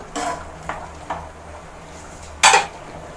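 Ginger and garlic being stirred in a pan while cooking a bitter gourd curry: a few quick metallic scrapes and clinks of a utensil against the pan, the loudest near the end, with quiet pauses between.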